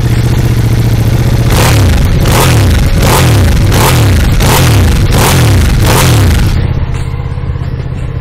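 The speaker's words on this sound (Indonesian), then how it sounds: "untuk suaranya ini knalpot masih standar teman-teman ya" A Ducati motorcycle engine on a stock exhaust revs repeatedly in sharp, rhythmic bursts, loud and close, before settling to a rough idle.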